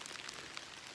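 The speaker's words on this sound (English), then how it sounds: "it's raining moderately, not hard." Moderate, steady rain falls outdoors, a soft continuous hiss dotted with small drop patters, fairly faint and with no voices.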